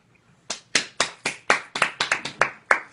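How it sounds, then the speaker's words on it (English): A handful of sharp, close hand claps ring out in an uneven rhythm, about a dozen strikes after a brief quiet start, with no talking over them. "Why the hell are we clapping?"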